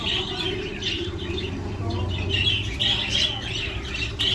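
Lovebirds, a mother with her white and light blue babies in a nest at night, give continuous close squawks and chirps over a steady low hum.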